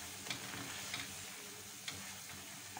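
Tomato chutney cooking in oil in a pan, a steady low sizzle and bubbling with a few sharp ticks and pops scattered throughout.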